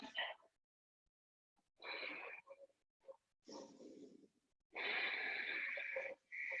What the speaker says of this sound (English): take a moment here to deepen your breath.